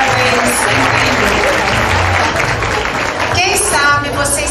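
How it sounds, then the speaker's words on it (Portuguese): Audience applause at the Mercado Persa 2024 festival on the Dubai stage, following a percussion group's performance: dense, continuous clapping from a large crowd, loud throughout, with a voice speaking over it near the end. "uma salva de palmas, maravilhosos, parabéns, incrível."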